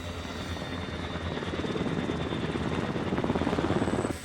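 Rescue helicopter engines and rotor blades on a special operations mission in Afghanistan, a steady loud drone with rapid rotor chop that grows stronger toward the end, no talking.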